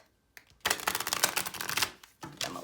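Tarot and oracle cards, including Keepers of the Light cards, being shuffled by hand in two quick riffling bursts of crisp papery flicking, close up, with a short pause between them.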